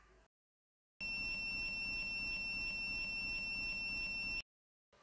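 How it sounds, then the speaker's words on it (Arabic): A Sonoff Zigbee motion sensor alarm sounds a loud, continuous electronic tone for about three and a half seconds, then cuts off abruptly, leaving near silence. "رح يشتغل عنا إنذار عند وجود حركة أمام هذا الحساس"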